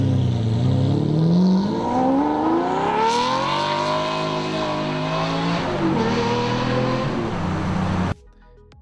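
Lamborghini Diablo VT 6.0 V12 sports car revving loudly and accelerating, engine pitch rising and sweeping through gears for about eight seconds before cutting off abruptly.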